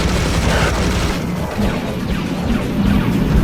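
Explosions and weapon fire from the first-person shooter Serious Sam HD: The Second Encounter fill the clip with loud, continuous booming and crashing blasts that overlap without a break.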